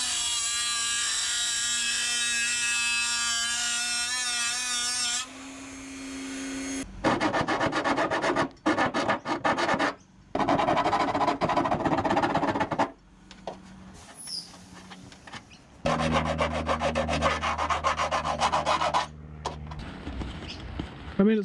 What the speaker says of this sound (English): So I'll just do it with the Dremel.